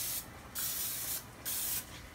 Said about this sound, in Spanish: Le echo spray para cocinar.